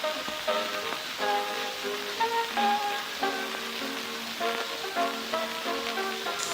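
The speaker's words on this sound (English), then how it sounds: "what you're hearing here is an example of a" An old song plays from a wax cylinder recording for the Columbia Phonograph Company, its thin, wavering tones buried under constant hiss and crackle.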